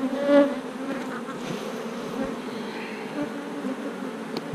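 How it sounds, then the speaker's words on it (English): Honey bees hum and drone continuously around a hive where a cluster hangs, a steady close buzzing with individual insects passing near, no talk over it. "there's a gob of bees hanging"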